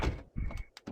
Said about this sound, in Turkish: Bir dakika kapıyı kapat.